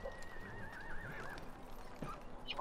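A horse whinnies in the Lord of the Rings Online game, a clear rising and falling neigh followed by a few soft hoof clops, moderately close and without talk.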